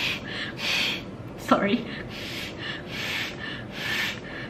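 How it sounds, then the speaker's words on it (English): A person blows their nose several times in short, breathy, rushing bursts before a COVID-19 antigen rapid test nasal swab, with a brief spoken word in the middle. "I'm gonna blow my nose."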